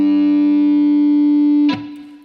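Ukulele played through an amp with a distortion effect, a single sustained, buzzy held note ringing loudly before being abruptly muted with a brief scrape, no talking.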